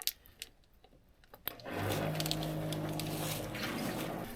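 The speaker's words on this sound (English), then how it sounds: "Yeah, it is pumping." Electric water pump in a barn being readied for calves, starting up after a quiet stretch of faint ticks, then settling into a steady, moderately loud mechanical hum.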